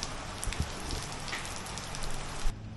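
Steady rain falling on surfaces outdoors on Koh Lanta, Thailand, a dense continuous patter of drops heard alone, with a louder thump near the end before the hiss cuts out.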